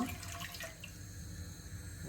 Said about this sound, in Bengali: এখন আমি 7 কাপ পানি দিয়া দিব